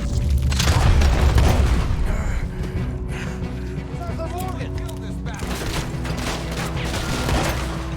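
Shotgun fire in Red Dead Redemption 2, a series of heavy booming shots with rumbling tails amid a dense, noisy game soundscape, with someone talking under it.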